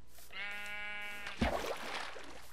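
A Minecraft sheep gives one drawn-out, quavering bleat, close and clear, followed by a short thud-like game sound, with no talking over it.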